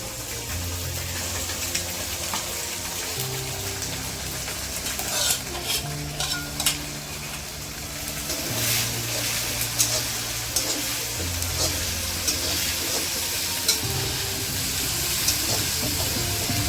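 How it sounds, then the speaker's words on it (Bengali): Onions and spices frying in oil in a pan while being stirred for a meat curry, with steady sizzling and repeated scraping stir strokes, close and continuous, with no talking. "মশলাটা খুব দারুণভাবে ভাজবো, সুন্দরভাবে ভাজতে হবে"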